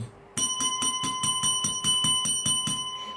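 A notification bell effect rings out crisply, about a dozen rapid evenly spaced bicycle-bell dings in a bright repeating pattern, loud and alone with no talk.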